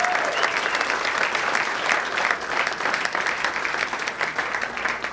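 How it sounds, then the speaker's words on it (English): A roomful of guests at a memorial foundation golf outing dinner applauds the board, sustained, dense clapping that holds steady for several seconds with faint crowd murmur underneath. "let's give the whole board a round of applause"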